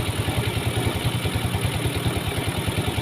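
A Yamaha Mio scooter engine runs up close with a steady, rapid low putter and a light mechanical clatter, holding an even pace without speech.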